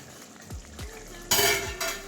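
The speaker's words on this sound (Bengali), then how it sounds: "ঢাকনাটা খুলে দেখবো" A lid lifts off a cooking pot holding Lemon লোটে (Bombay duck fish), with a couple of soft metallic clinks and then a sudden rush of loud sizzling from the uncovered pan that slowly fades.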